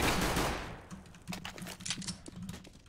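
Quick bursts of gunfire in a shooter video game, faint, clicky shots in a rapid, uneven rhythm after a louder opening swell.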